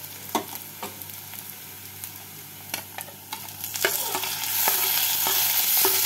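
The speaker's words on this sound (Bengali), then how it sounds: "এবার পেঁয়াজের সাথে ভালো করে মিশিয়ে ভেজে নিতে হবে।" Onion, garlic and tomato fry in a pan with a steady sizzle. Sharp spatula scrapes and taps come at irregular intervals, and the hiss grows louder and denser toward the end, close up with no talking.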